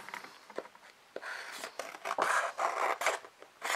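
Paper scissors snip through a sheet of white paper while cutting out a traced shape for a DIY rainbow fairy craft, giving a run of close, crisp scraping cuts in uneven bursts.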